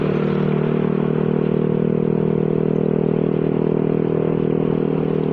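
Honda Vario 125 scooter riding over bumpy Makassar streets, a steady close engine drone with rattling and clattering from the rough surface, continuous and loud.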